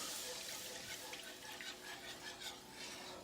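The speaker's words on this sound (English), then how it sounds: "Now we're gonna add the milk." Milk poured into a pan holding butter, flour and garlic for a creamy fettuccine sauce, a steady broad liquid wash with light stirring and sizzle, close and continuous with no talk.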